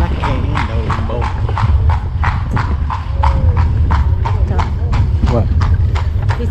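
Horse hooves clip-clop in a steady, evenly spaced rhythm on a town road in Dublin during a carriage ride from the Guinness Storehouse to the Jameson Distillery, loud and close over traffic hum and background noise.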